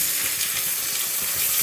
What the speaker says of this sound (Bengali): প্রথমে আমি এই পেঁয়াজটা একটু লাল লাল করে ভেজে